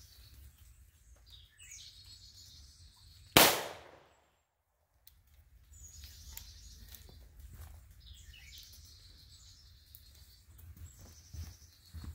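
A single sharp, loud gunshot from a 4-inch .357 revolver firing a CCI shotshell cracks once and cuts off abruptly, with outdoor birdsong chirping faintly before and after.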